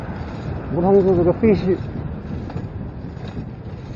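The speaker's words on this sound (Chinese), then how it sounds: "今天刮风" Gusty wind rumbles and buffets the microphone on a city street in Nanjing, where plane-tree fluff is drifting, heard steadily under a person talking close by.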